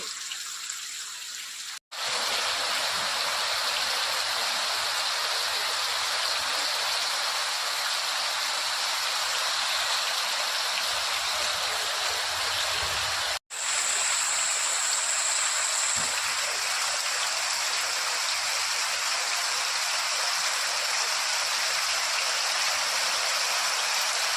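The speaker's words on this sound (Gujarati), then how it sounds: "એટલો ગાજવીજ સાથે એટલો વરસાદ આવે છે" Heavy rain with thunder pours down in a dense, steady roar over a village, loud and constant with no voices and only two brief cuts in the sound.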